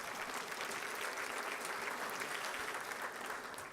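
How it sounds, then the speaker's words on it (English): An audience at a State of the City address claps steadily, a dense, even wash of applause that holds for several seconds before starting to taper. "Let's give him a round of applause."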